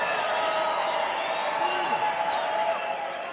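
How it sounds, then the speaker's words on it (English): A crowd at a bare-knuckle fighting event applauds and cheers two lightweight fighters, a dense continuous roar of clapping and voices with whoops and whistles rising above, steady and fairly loud throughout. "let's have a round of applause for these two lightweight warriors"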